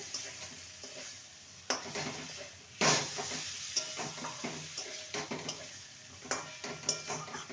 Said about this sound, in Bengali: নেড়ে নেব গ্যাসের ফ্লেমটা এখন লোতে আছে লোতে রেখে ভালো মতন কষিয়ে নিতে হবে